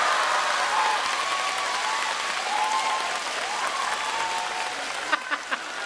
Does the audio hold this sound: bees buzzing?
no